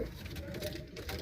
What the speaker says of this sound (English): So, yellow pigeon, blue check hen.